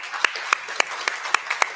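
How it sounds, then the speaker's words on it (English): A courtroom audience applauds, steady rhythmic claps repeating about every quarter second, fairly loud and close. "I think we give a round of applause to the people who served"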